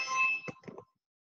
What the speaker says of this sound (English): now I have a Ring doorbell